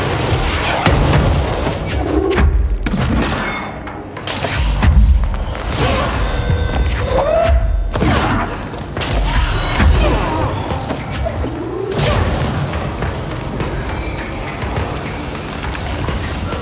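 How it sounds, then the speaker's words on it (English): A bomb going off in the game Control amid loud thuds, booms and impacts spread through the stretch, with a voice heard intermittently. "I went right into a bomb."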